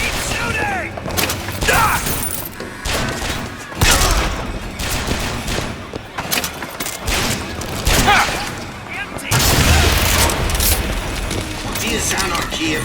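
Gunfire in the video game BioShock Infinite: loud, repeated bursts of shots and sharp cracks arriving in clusters, with shouted voices and battle noise around them.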